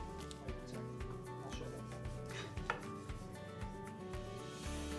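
A knife cuts through a homemade sushi roll in a home kitchen, giving a series of soft, close chopping knocks on a board at an irregular pace, with faint background hum.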